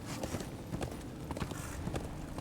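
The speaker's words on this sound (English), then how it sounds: "Back on the horse." Horse hooves clip-clop in the video game Darksiders 2, a steady run of rhythmic thuds at moderate distance over a constant wash of background game ambience.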